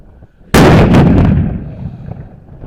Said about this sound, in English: Mortar crew, make ready. Fire!